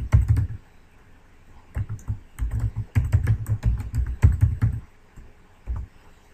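Computer keyboard keys pressed in quick irregular bursts while a password is entered, close and crisp, with short pauses between runs of clicks and no talk.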